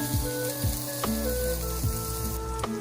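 Ginger sizzles with browned garlic in hot oil, a steady close fry punctuated by a few scraping stirs, with no voices.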